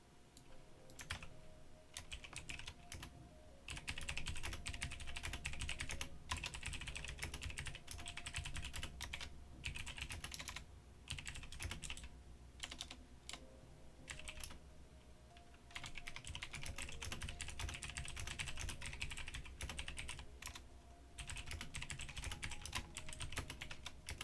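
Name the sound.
typing on a computer keyboard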